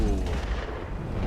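Tank cannon fire from an XM-803 in a War Thunder realistic battle: a loud, dense, booming shot with heavy low rumble that fills the whole short moment, close and alone without talk.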